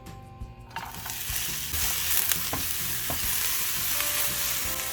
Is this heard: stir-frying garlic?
yes